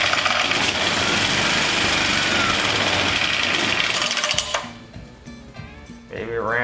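An old English Suffolk engine chugging steadily and loudly, then cutting out and falling quiet as a voice comes in over the fading sound.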